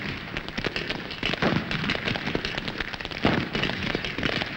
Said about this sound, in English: Australian gunners put down a barrage to help their infantry forward